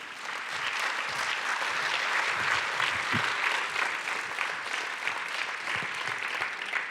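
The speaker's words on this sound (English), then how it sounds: "So let's give all our doctors and medical professionals a round of applause" Sustained audience applause for doctors and medical professionals at a summit of first ladies and gentlemen, a dense, steady wash of clapping from a large crowd filling the whole stretch.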